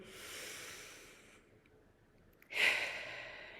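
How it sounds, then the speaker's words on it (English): A single deep breath in, a soft airy inhale swelling suddenly near the end after a quieter stretch of faint breathy hiss, close and alone. "take a nice deep breath in"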